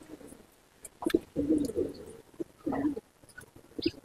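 Punjabi Malwai pigeons coo in a loft, several low throaty rolling calls in short bursts separated by pauses, fairly close, with faint clicks and rustles between them.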